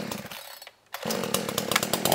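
A Supmix 6250 chainsaw runs loud and close, its engine briefly dropping out to near silence before roaring back up and holding a steady, rising drone.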